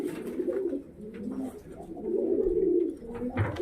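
Pakistani high-flying pigeons coo inside a cage, low throaty rolling calls that swell and fade in overlapping phrases, close and fairly loud.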